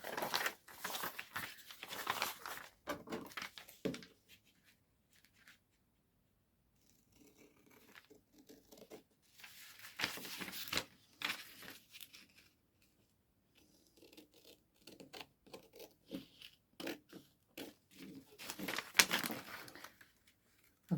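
Scissors snip and crinkle through bubble wrap while a journal is being made, giving close, intermittent bursts of cutting and plastic crackle separated by quiet pauses.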